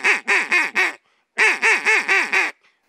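A duck call blown with throat cutoff so the notes run together, two close, loud bursts of four and five raspy quacks separated by a short pause.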